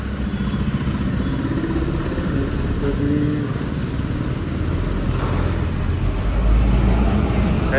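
A Tata Nexon CNG crawls through heavy road traffic. A steady engine rumble and road noise fill the cabin, and the sound swells briefly near the end as the car moves on.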